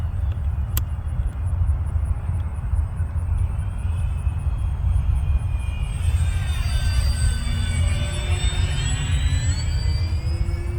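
An FMS Ranger V2 1220mm RC plane flies overhead, its electric motor a steady whining drone that rises and falls in pitch as it passes, against continuous outdoor wind rumble, with no voices.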